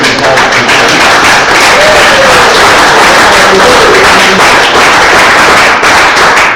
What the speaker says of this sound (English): Let's give another round of